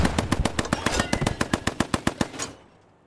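Rapid bursts of automatic gunfire in the video game Post Scriptum, a dozen or so sharp shots in quick rhythm, loud and close, then cutting off into quiet.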